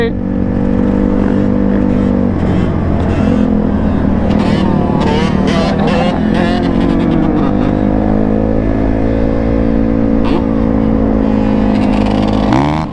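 A two-stroke dirt bike engine revs loud and close, held in a steady high drone with rising and falling pitch throughout, joined by other motorbike engines.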